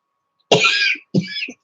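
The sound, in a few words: cough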